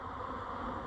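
Defensive, aggressive mature honey bees swarm around an opened hive box during inspection in a nectar dearth with robbing underway, a dense, steady, close buzzing that fills the moment with no voices.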